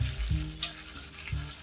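Steady sizzling of pork frying in a pan, with low rumbling bursts and faint clinks from stirring, close and moderately loud.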